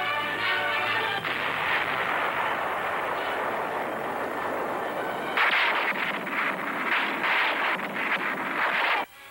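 Heavy artillery booms in a WWII battle on Okinawa, with big guns shelling enemy defenses near Naha; dense, continuous roaring blasts fill the whole stretch, growing sharper and more rapid in the second half.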